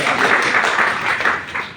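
Sustained applause from a lecture audience, steady clapping from many hands filling the room for about two seconds without pause.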